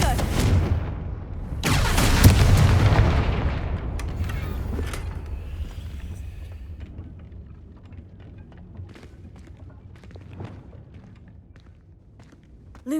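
In the Hogwarts Legacy video game, a Confringo blasting curse goes off as a loud, booming fiery explosion. It rumbles heavily for a couple of seconds, then fades into softer footsteps and scattered small impacts.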